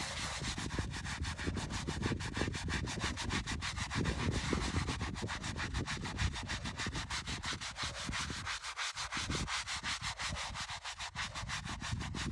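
A brush scrubs hard over a dirty stone headstone in fast, continuous back-and-forth strokes, a close, gritty rhythmic rasp running throughout with only brief breaks.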